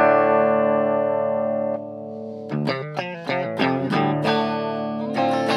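An Ibanez Prestige RGA321F HH electric guitar, a 2006 Japanese model with DiMarzio pickups and a fixed Ibanez bridge, plays through distortion. A long sustained chord rings out, then it shifts into rhythmic chugging chord stabs.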